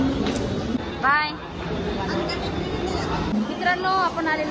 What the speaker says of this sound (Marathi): पाहू शकता किती गर्दी आहे